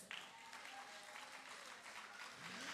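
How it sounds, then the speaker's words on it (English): Parents at a high school graduation ceremony in a conference center applaud steadily, a full close wash of clapping that holds throughout, with faint voices and stray tones mixed into the crowd noise. "So parents, clap yourself."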